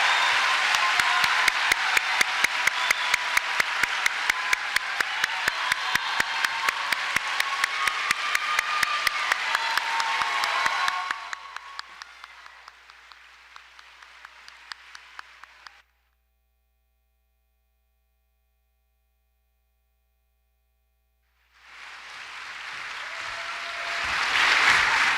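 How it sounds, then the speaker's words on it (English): Audience applause fills a white coat ceremony hall for a physician assistant class, dense and steady for about eleven seconds, then thinning to scattered claps. A silent gap follows before a fresh burst of clapping starts up. "Please give our students one more round of applause"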